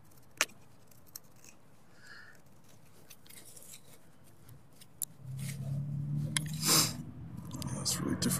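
A knife carves a wooden spoon, giving a few faint, sharp clicks and scrapes early on, then a louder, steadier rasping passage near the end.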